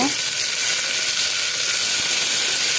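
Chopped tomatoes frying in a hot pan: a loud, continuous sizzle and hiss that stays even and close throughout.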